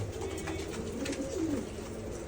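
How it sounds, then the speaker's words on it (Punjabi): Domestic pigeons kept in a loft coo softly in repeated low, rolling calls, close by and continuous, with no talking over them. "ਕਬੂਤਰਾਂ ਨੂੰ ਦਾਣਾ ਪਾਣੀ ਪਾ ਕੇ ਛੱਡੇ ਹੋਏ ਆ"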